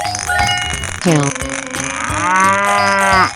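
In a 3D animal video game, a cow gives two deep, drawn-out moos, loud and close over cheerful background music.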